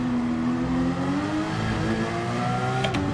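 A race car engine in Gran Turismo 7 winds down from a high, strained whine as the car brakes hard, its pitch sliding steadily lower, then a brief burst of revs near the end.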